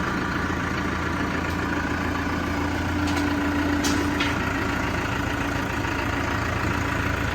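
A steady, rumbling tractor engine idles continuously at close range, with a low hum and a brief hiss partway through; Basak tractors.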